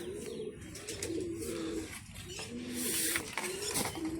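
Pigeons cooing in repeated low, soft bursts while the birds are released to fly, with faint mechanical rattles and rustling around them.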